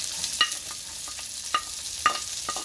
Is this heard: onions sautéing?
yes